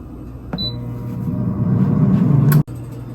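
An air fryer, set for 8 minutes to cook beef steak, starts with a click and a short beep and then hums steadily at close range. A sharp click cuts off the hum near the end, and no one speaks.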